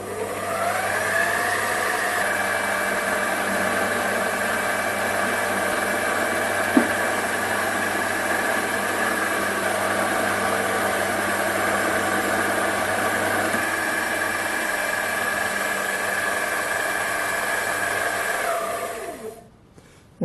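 An SP2102 mini lathe turns aluminium at 600 RPM, giving a steady, fairly loud motor whine with a constant tonal hum that runs evenly and alone, then winds down abruptly near the end.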